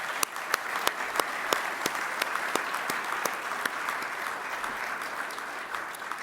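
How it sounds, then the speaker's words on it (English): A conference plenary audience applauds volunteers with steady, dense clapping from a large crowd in a hall, a few louder claps standing out near the front, lasting throughout at an even level. "please join me in a round of applause for these amazing ASHRAE volunteers"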